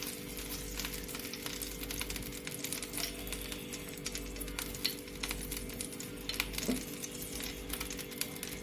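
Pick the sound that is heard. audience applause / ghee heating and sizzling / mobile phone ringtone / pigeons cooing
ghee heating and sizzling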